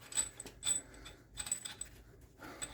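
A ratchet tightens a new bolt on a truck CV shaft, giving quiet bursts of quick mechanical clicking with short pauses between strokes, close up and with no talking.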